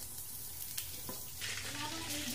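Breaded chicken cordon bleu frying in very hot oil under a covered pan, a steady close sizzle and crackle with brief spatters, no talk.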